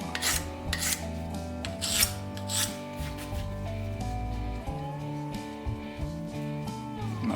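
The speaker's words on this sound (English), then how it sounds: "Grind down that one side there, make it nice and" A small knife blade is ground along one side on a sharpener, producing rough repeated rasping strokes at close range, with a sustained background hum beneath them.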